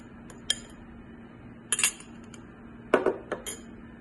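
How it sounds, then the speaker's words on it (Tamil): Matcha powder being added to a mixer jar, heard as a few light clinks of spoon and jar at separate moments with quiet gaps between them. "இந்த matcha பவுடரை வந்து இந்த மிக்சர் ஜாரில் ஆட் பண்ணிக்கிறேன்"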